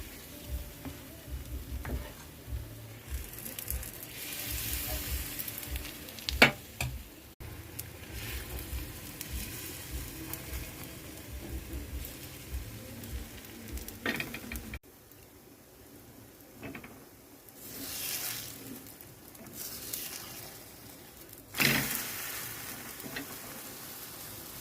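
Gola ruti batter sweetened with jaggery sizzles in hot white oil in a pan, a steady low frying crackle with occasional scraping and stirring sounds throughout.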